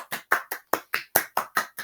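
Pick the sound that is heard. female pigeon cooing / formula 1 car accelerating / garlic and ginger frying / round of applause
round of applause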